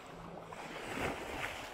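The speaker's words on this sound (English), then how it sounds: "the waves really kick up though" Sea waves wash and churn near a Croatian shore, a soft broadband rush with gusty wind noise swelling and easing over less than two seconds.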